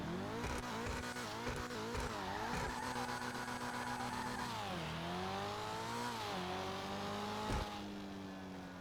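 Annis Euros X32 HSW car engine in GTA Online revving loudly and steadily, the pitch rising and dipping through gear changes with tire squeal mixed in, continuous with no talk.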